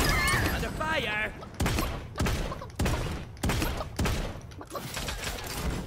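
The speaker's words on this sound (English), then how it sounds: "Under fire!" Repeated bursts of gunfire in the video game Realm Royale, sharp loud volleys at a steady rhythm, with an excited voice shouting over the opening moments.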